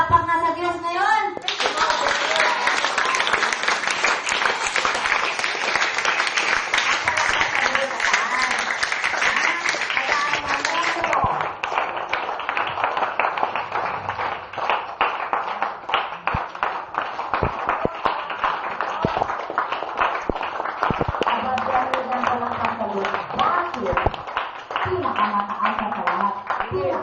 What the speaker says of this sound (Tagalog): Kaya palakpak na sa Diyos ngayon!